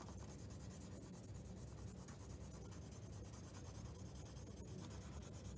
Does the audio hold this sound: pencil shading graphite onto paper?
yes